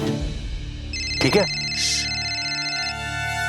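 A phone rings with an incoming video call from mum, a steady electronic melodic tone that plays on under a brief spoken word from a nearby voice.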